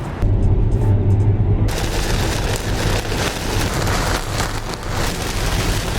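Heavy rain pours down while a Tesla Model Y towing a U-Haul trailer drives through a west-to-east storm system, making a loud, steady roar that continues without a break and with no talk.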